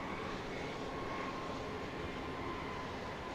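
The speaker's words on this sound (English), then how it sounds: "Very quiet plane, at least on landing." An airplane lands at Dallas Love Field at night, a steady, faint, distant engine roar and rumble that holds evenly throughout with no talking.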